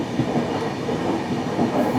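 A long-distance Sampark Kranti express runs along an Indian railway line, giving a steady rumbling roll with faint clickety-clack from the wheels, heard from on board at a constant level with no voices.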